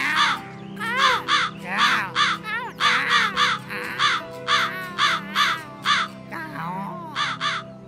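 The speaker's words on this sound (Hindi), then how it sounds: "और कौआ अपने पैरां तो रोटी दबाकर बेसुरी आवाज विच गाने लगा।" A crow caws repeatedly in harsh, evenly spaced calls, close and loud over a low steady background hum.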